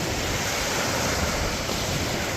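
Waves rolling onto the beach at Presque Isle State Park in Erie, Pennsylvania, a steady broad roar of surf mixed with wind buffeting the microphone, continuous and close with no pauses.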